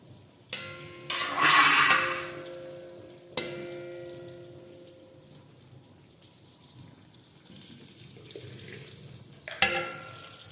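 Green chillies sizzle and fry in a pan for Chettinad chicken biryani, with a few scraping stirs, a loud burst of hiss early on, then a quieter simmer with clinks.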